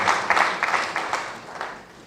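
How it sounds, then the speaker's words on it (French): Audience applause at a diploma ceremony for accounting professors in Senegal, a dense burst of many hands clapping close and loud, then slowly thinning and fading over about two seconds. "Maxime d'applaudissement pour Monsieur Talibouya Fall"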